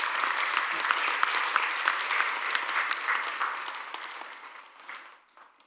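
A church congregation applauds together, a dense, steady patter of clapping from a roomful of people that holds for several seconds, then thins and fades out near the end.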